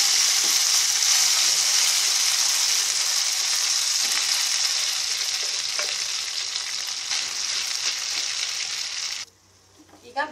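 Loud, continuous sizzling of cooked rice and lentils frying in hot ghee, with occasional stirring, cutting off abruptly near the end into quieter handling sounds.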